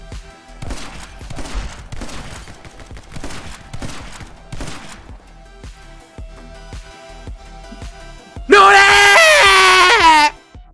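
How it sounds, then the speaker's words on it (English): Shotgun blasts in the action shooter game My Friend Pedro, a run of sharp gunfire hits over game music, ending in a loud, dense burst of shots near the end. "Shotgun."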